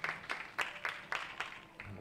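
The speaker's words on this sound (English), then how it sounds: "the British team clap along." A small team clapping along in unison at a men's trap shooting final, six or seven sharp rhythmic claps at a steady beat, fairly faint and distant in an outdoor setting.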